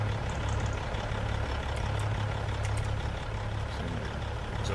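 A Peterbilt truck engine runs steadily, a loud, continuous low rumble with a constant droning hum and no pauses, heard close and alone.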